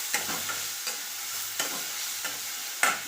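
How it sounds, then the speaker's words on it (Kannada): Onion, garlic and coconut fry in a pan for a mackerel gravy: a steady close sizzle with a low hum, broken by regular scraping stirs, no voices. "ಇದ್ರ ಜೊತೆಗಿನ ಬೆಳ್ಳುಳ್ಳಿ ಒಂದು ಗಡ್ಡೆ ತೊಗೊಂಡಿದ್ದೆ ಹುರ್ಕೋತೀನಿ."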